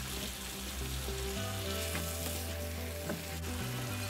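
Tomato turkey sauce sizzles and fries steadily in a pot while being stirred, a continuous close frying hiss with no voices.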